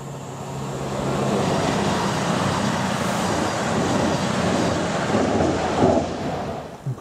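The 11:36 Manchester Piccadilly to Bristol Temple Meads train passes through Kidsgrove railway station as a loud, sustained rumble that swells and holds for several seconds, then surges briefly near the end.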